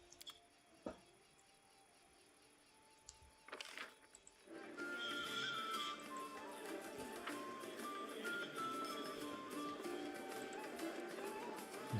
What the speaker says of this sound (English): The horse is here.